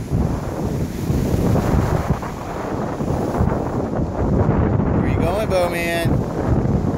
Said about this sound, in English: That water's rough, Jamie.